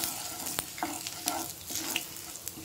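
Cumin seeds frying in hot oil in a kadai, a soft crackling sizzle broken by quick stirring clinks and scrapes of a spoon, close and fairly quiet with no voices.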